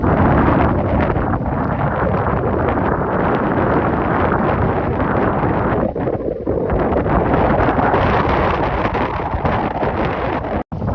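Strong, steady wind roars across an open lake on a rough day when kayaks capsized, a loud continuous buffeting on the microphone with no talk, dipping briefly near the end.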